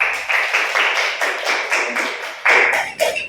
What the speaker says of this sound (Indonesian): Tepuk tangan dulu Tina.